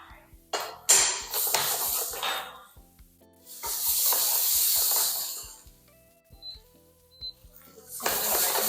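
Ginger garlic paste sizzles in a hot pan, loud hissing bursts that swell and fade with quieter gaps between, heard close and alone.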